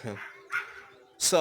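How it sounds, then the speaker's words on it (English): A dog barks three times, nearby and fairly clear, with short gaps between the yips and a voice faintly heard in the room. "Excuse the dog again."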